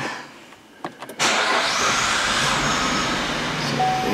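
A Cadillac SRX engine, running rich and hard to start, cranks in a few short bursts, then catches and roars into a steady, loud idle that continues to the end.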